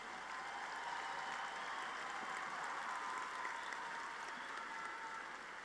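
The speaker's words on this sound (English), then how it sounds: "a round of applause for the baccalaureate graduates from the Sanchez School of Business" Steady, sustained applause from a large commencement crowd honoring business graduates at a university ceremony, a dense even wash of clapping filling the hall without pause.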